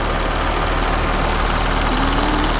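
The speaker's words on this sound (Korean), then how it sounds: "엔진 소리 일정하네요." An Audi A6 40 TDI quattro diesel engine idles steadily up close, a constant loud rumble with an even, unchanging tone.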